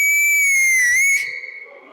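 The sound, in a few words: person whistling to stop an auto rickshaw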